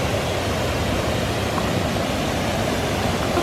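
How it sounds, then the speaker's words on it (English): Waterfall on Luxembourg's Mullerthal trail, a steady, dense rush of falling water heard close by, constant and broadband with no pauses and no voices. "We found the last waterfall of Luxembourg."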